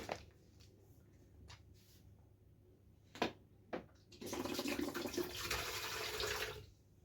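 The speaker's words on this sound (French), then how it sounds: "Je vais mettre de l'eau dans le fond." Water pours into the bottom of a cooking pot in a home kitchen, a steady splashing rush lasting a couple of seconds after a few faint knocks and clatters, close and moderately loud.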